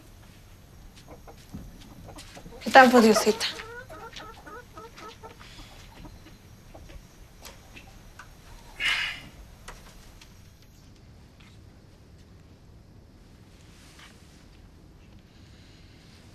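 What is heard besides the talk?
hen clucking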